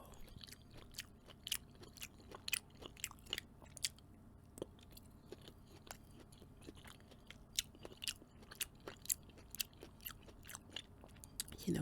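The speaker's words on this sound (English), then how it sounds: "let me taste a little bit of this cantaloupe" Someone chewing cantaloupe very close to the microphone, a quiet, steady run of wet bites and crunchy mastication with small smacks, no talking.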